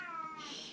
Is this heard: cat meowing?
yes